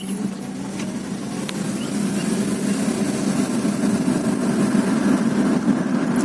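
A 2003 Honda Accord V6 drives along, its engine giving a steady low hum with road rumble that holds a constant, moderately loud level throughout, with no voices.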